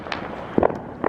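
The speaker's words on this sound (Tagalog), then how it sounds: "Ang daming fireworks sa neighborhood." Neighborhood fireworks on the Fourth of July pop in a few brief, distant cracks over a low outdoor background.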